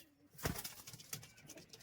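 Soft, low cooing of Giribaz pigeons nearby in Murshidabad, India, with a faint flutter of wings and light rustling, no talking.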